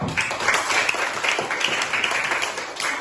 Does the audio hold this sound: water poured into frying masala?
no